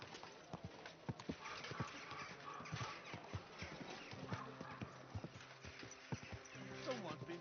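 Horse hooves clip-clop at a walking pace in the medieval video game Kingdom Come Deliverance 2, a steady near rhythm of hoofbeats with talk over it.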